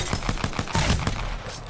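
Rapid automatic gunfire from a weapon in Apex Legends, a fast, evenly spaced burst of sharp shots repeating through the whole stretch, close and loud with no talk over it.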